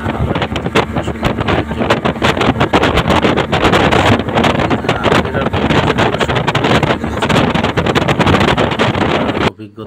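A speedboat runs on a river near Aricha, its engine roar close and constant with heavy wind buffeting the microphone, cutting off abruptly near the end.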